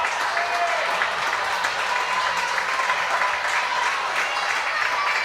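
A volleyball crowd at a high school match between Oskaloosa and Pella Christian applauds and cheers steadily, dense clapping and shouts filling the gym without a break.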